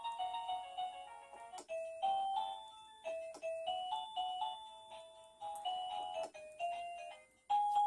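A MECO wireless doorbell chime plays a melody as a string of bright electronic tones, each note decaying quickly, close and alone in a quiet room.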